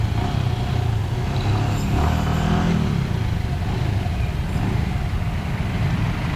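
Traffic in downtown Angeles City, Philippines, heard from a motorcycle: a steady broad roar of mid-sized engines, rising and revving cars and motorbikes close by, continuous with no talk.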